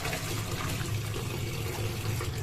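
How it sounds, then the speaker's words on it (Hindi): Stinging nettle greens are swished and rinsed in water, giving a steady, close sloshing and splashing with no voices. "इसको 2-3 बार मैंने इसको अच्छे से धो लिया, ऐसे ही हिला हिला के"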